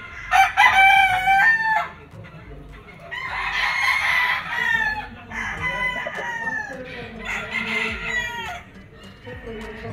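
Grey straight-comb gamecock roosters crow repeatedly at a gamefowl farm, several loud overlapping cock-a-doodle-doo calls close by, with more birds calling in the background.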